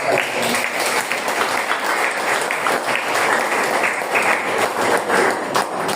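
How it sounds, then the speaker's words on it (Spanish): A church congregation claps during a sermon, loud continuous applause sustained for several seconds with no talking over it. "Dale palmas."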